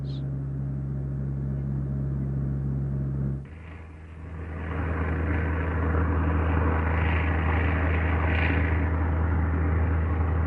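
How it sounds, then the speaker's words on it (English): A PBY Catalina flying boat's engines drone steadily at night, a loud, continuous low rumble that briefly dips and then swells back, filling the whole stretch with no voices. "Soon, its engines will be heard and bring the usual response from Japanese anti-aircraft guns."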